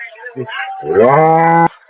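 A single loud, drawn-out moo from a nearby cow, preceded by brief faint background voices and ending abruptly.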